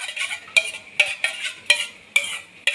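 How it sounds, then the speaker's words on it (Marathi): A whisk or spoon briskly beats homemade curd into urad dal vada batter in a bowl, giving about six quick, sharp clinking strokes in a steady rhythm, close and fairly loud with no talk. "थोडंसं फेटून घ्यायचं याच्यामध्ये।"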